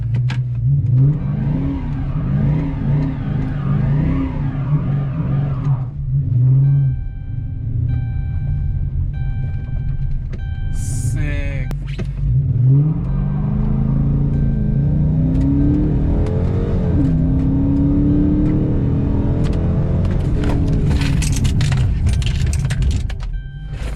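A Dodge Charger Scat Pack with an upgraded Brembo brake setup runs from standstill up to 66 mph and back to a hard stop, its engine revving and rising steadily through the gears at close range, with brief clatter midway and a loud, continuous rumble throughout.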